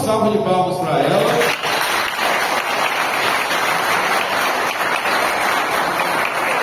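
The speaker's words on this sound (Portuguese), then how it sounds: "eu peço até uma salva de palmas para ela" A seated audience at a solemn session of an arts and letters academy in Cristalina claps steadily for the speaker's mother, sustained and fairly loud for several seconds, while a voice speaks briefly at the start.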